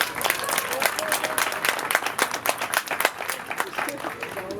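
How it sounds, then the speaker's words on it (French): An audience at a school mock trial applauds student Dora with brisk, dense clapping, loud and steady before thinning out toward the end, with no talk over it. "je pense qu'on peut encore une fois applaudir Dora"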